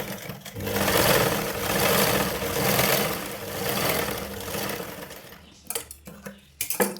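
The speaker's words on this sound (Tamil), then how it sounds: "எட்ஜில் ஒரு தையல் போடுங்க" A sewing machine runs steadily for about five seconds, stitching along the edge of blouse lining cloth, then stops, leaving a few brief clicks and handling knocks.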